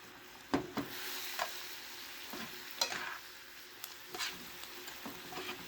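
Green bean casserole mixture with salt and pepper stirred in a pan on the stove, giving soft scraping clinks and light sizzling in irregular strokes, close and fairly quiet, with no talking.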